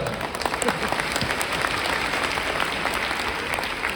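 An audience of men and women claps together in a sustained, dense round of applause that holds at an even level from start to finish, with a few sharper individual claps standing out.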